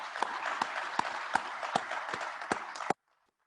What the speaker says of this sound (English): please help me give their team a round of applause for their continuous growth